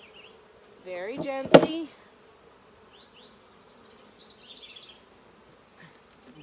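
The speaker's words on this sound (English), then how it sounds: "And we got a lot of bees on here." Bees hum around a hive that is being opened, a close, steady buzz with brighter passes as individual bees fly by, while a person speaks quietly over it.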